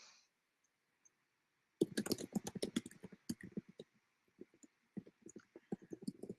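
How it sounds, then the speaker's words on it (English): Rapid bursts of computer keyboard typing, close and clear, in uneven runs of keystrokes with short pauses between them, after a quiet start. "You can hear me typing."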